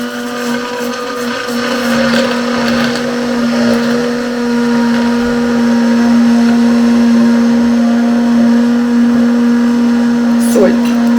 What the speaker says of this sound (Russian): Ставим блендер. Погружной блендер беру.